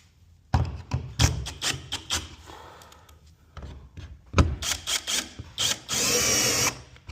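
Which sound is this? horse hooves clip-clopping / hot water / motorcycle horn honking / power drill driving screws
power drill driving screws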